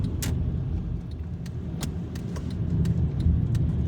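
A car rolls slowly into a parking spot, its engine humming low and steady with small clicks and rattles from inside the cabin, and a slight rise in engine sound toward the end.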